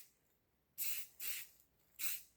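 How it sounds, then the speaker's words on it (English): Three short, quiet bursts of aerosol spray paint hiss onto a diesel injector, each about half a second long, applied as a light coat with brief gaps between. "I don't want to spray it heavy."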